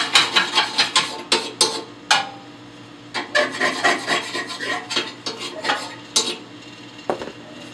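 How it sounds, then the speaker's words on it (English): A metal scraper rasps repeatedly inside the burn pot of a Harman P-series pellet stove during end-of-season cleaning, in quick rhythmic strokes with short pauses between runs, close and clear with no talking. "Make sure you just take your tool and scrape your burn pot out good."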